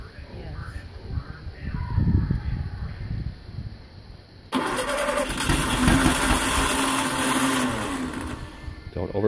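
Someone's 40hp VW engine cranking on its starter: a loud, steady whirring churn kicks in partway through after quieter moments with a voice, then runs on continuously up close.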